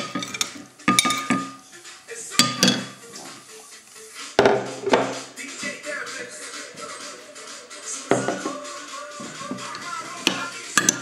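A utensil clinks and scrapes against a bowl as tomato slices are mixed, with irregular taps and knocks that come close and moderately loud, while soft talk runs underneath.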